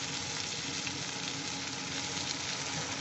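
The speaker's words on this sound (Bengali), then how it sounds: "এবার আমরা আদা বাটা দিয়ে দেবো" Ginger paste sizzles loudly and evenly in a frying pan while khichdi is made from leftover rice, a dense continuous frying hiss with faint stirring underneath and no voices.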